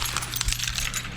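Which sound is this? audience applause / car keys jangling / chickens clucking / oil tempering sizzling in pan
car keys jangling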